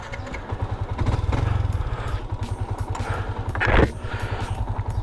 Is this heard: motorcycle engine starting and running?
yes